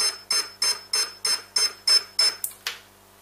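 Brushless ESC emitting a repeating series of about eight evenly spaced electronic beeps, signalling that it finds no input signal, followed by two brief higher tones, close and clear with no talking.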